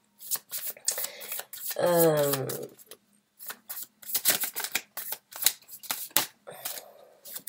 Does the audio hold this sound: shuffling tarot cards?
yes